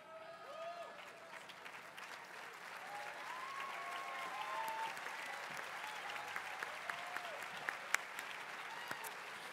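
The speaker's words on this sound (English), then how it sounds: "I'd like to invite you to applaud the graduates of our programs in social sciences." Applause for master's and doctoral graduates in social sciences at a Villanova College of Liberal Arts and Sciences ceremony, a broad crowd clapping that builds and holds steady, with a few faint voices and sharper claps near the end.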